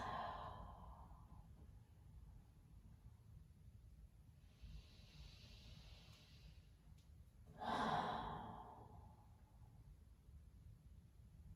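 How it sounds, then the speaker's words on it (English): Slow, deep breathing during a yoga session, soft and close: a gentle breath at the start, a faint airy hiss in the middle, then a fuller exhale near the end, all quiet. "Inhaling deep breaths. Exhaling full exhales."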